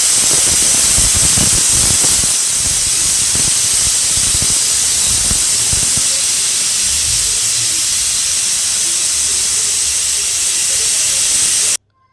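A pressure cooker on a medium flame cooking Kurnool-style dal lets off a loud, sustained hiss of escaping steam that runs nearly twelve seconds before cutting off abruptly.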